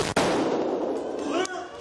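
A sharp gunshot from police firing at a shooter cracks near the start, followed by reverberant roar and a second fainter bang, close and loud.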